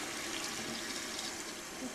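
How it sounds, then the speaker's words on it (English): Water poured from a tap into a pot of beets to cover them, a steady close hiss of running water with no break and no talking. "So I added just enough water to cover the beets."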